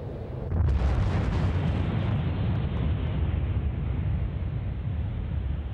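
Exploding star sound effect: a deep booming blast that bursts in after a brief lull, then rolls on as a loud, sustained low roar without fading, with no voices.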